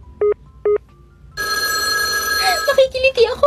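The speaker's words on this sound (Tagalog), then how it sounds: "Tawagan mo na kaya Dexter." Two short bursts of a mobile phone ringtone sound at close range, followed by a pause. Then a louder, continuous ringtone melody plays under several people talking over it.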